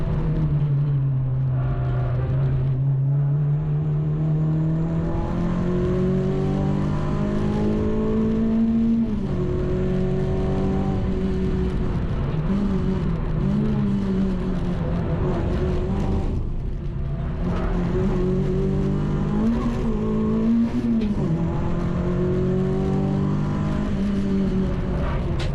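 Renault Clio race car lapping Cadwell Park on a trackday, engine droning and revving hard from inside the cabin, pitch climbing and dropping through several gear shifts, loud and continuous.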